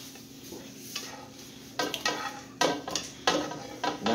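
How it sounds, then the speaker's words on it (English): Sausage made with freeze-dried eggs is chopped and stirred in a pan under a low sizzle. A utensil scrapes and clatters against the pan in several sharp bursts, with no speech. "So I'm just chopping it up, keeping it moving, getting it warm, browning this sausage."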